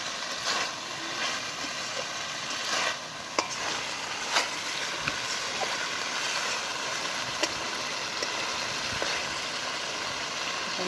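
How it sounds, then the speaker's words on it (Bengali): Goat meat stir-fried with spices over low heat, a steady moderate sizzle with occasional spatula clicks and scrapes against the pan. "মশলার সাথে মাংসটা আমি ভালো করে কষিয়ে নেব। খাসি মাংস অল্প আঁচে অনেকখানা ধরে কষাতে হবে।"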